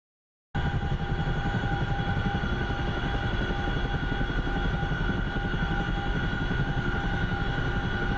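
A Chinook helicopter in the DCS flight simulator roars steadily from start to finish, with a loud, constant rotor and engine drone and sharp tonal whine layered on top.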